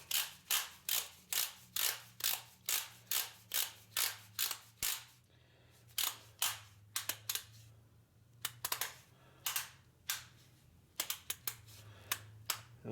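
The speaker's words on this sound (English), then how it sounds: "Now the torque wrench." A torque wrench tightening rear brake bolts on a 2013 Honda CR-V, a long run of sharp, evenly spaced ratchet clicks close up, pausing briefly and then resuming in quicker bursts.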